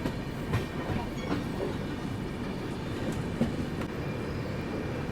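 Onboard the West Bengal Sampark Kranti express as it runs through Dehri on Sone station: a continuous loud rolling rumble punctuated by several rhythmic clickety-clack wheel knocks over rail joints.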